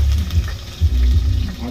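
Garlic hits hot cooking oil and frying takes hold, a steady close crackle with a low rumbling bed and a few louder bursts, no voices over it.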